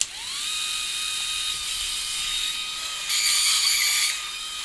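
A Skull Shaver Pit Bull Gold electric head shaver whines up and runs with a steady high buzz and fine mechanical chatter as its blades reseat against the foil, growing harsher briefly before easing off.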